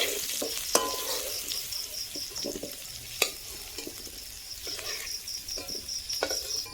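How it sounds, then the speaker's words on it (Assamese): Bamboo shoots fry in hot oil with a soft, continuous sizzle, broken at intervals by sharp clinks and scrapes of a utensil stirring the pan. "এতিয়া মোৰ বাঁহৰ গজালি ভাজি লোৱা হৈ গ'ল।"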